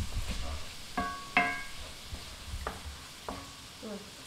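Beef empanada filling cooks in a pan with a soft, low sizzle, broken by a few sharp scrapes and clinks of a utensil stirring the mixture, close and quiet, with no voices.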